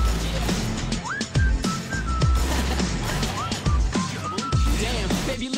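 A bright, melodic whistled tune carries through a song, rising and sliding phrases repeating over a steady beat with a thumping low pulse.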